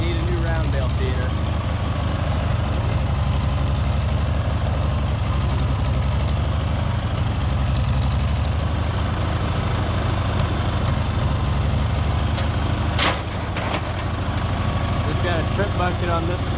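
A tractor engine idles steadily throughout, a low rumbling drone with a brief sharper clatter near the end.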